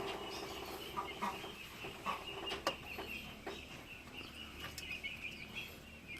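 Brahma chickens cluck and call in a small flock, with scattered sharp clucks and a few louder squawks over a low steady background, close by and fairly quiet.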